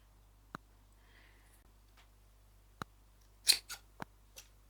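Scissors snip through a thin dreadlock extension in a few sharp, separate clicks spread over several seconds, with a quick cluster of louder cuts near the end, close and otherwise quiet.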